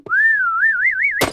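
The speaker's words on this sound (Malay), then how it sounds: "Apa itu bunyi televisyen?" A single wavering electronic television tone slides and wobbles steadily for about a second, then cuts off into a brief burst of noisy static.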